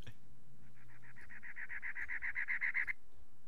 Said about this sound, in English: Let's add some forest birds.